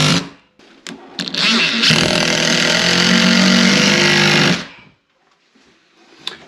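Power drill driving 2.5 screws into wall studs while fitting a closet shelf and pole, a few short trigger bursts, then one sustained loud whirring run of about three seconds that stops abruptly, close up.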